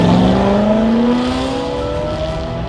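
A BMW E92 M3 engine roaring as it accelerates, its rising pitch climbing steadily over nearly three seconds, loud and close with no talk.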